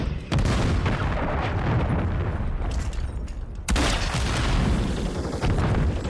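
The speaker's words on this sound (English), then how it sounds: "Friendly cruise missile. Approaching target." Cruise missile strike in Call of Duty, a dense roaring barrage of explosions and rumbling blasts, loud and sustained, with a sharp fresh impact midway.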